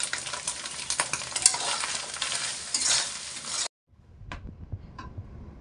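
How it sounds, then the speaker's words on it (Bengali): Onion and green chili frying in a pan make a dense, bright sizzle with stirring scrapes that cuts off suddenly, followed by a few isolated clinks and soft knocks. "পেঁয়াজ মরিচ ভাজা হয়ে গেছে,"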